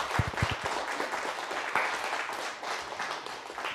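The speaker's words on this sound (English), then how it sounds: "Let's give them a round of applause." An audience applauds a group of Taconic Hills teachers, a dense, steady wash of many hands clapping, with a few sharper, heavier claps standing out near the start before it settles into a continuous roar.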